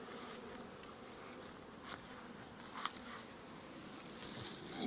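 Honeybees at an apiary, clustered at the hive openings and fanning their wings on a hot July day, produce a faint, steady buzzing drone with no talk.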